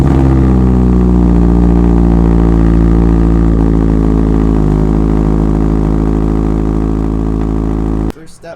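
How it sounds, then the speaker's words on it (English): A Scion FR-S, Subaru BRZ or Toyota 86 engine idles loudly and steadily after a cold start with a deep, even drone, cutting off abruptly near the end; a voice talks over it. "let's have a nice cold start clip here"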